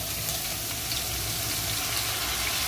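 Marinated meat sizzles and crackles loudly in hot oil in a pan, a dense, steady frying hiss that fills the whole moment without any talk.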